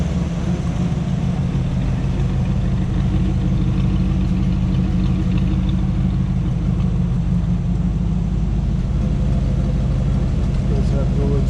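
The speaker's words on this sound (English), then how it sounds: "Take you back and hear the exhaust." A 1961 Chevrolet Corvette convertible with dual exhaust idles steadily, a deep, even low rumble held close and constant throughout with no breaks or revs.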